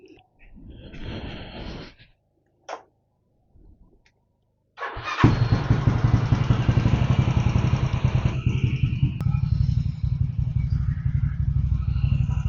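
A Yamaha Mio scooter engine starts after a few faint knocks, then idles and revs steadily close by with a loud, continuous buzzing drone that settles slightly lower toward the end.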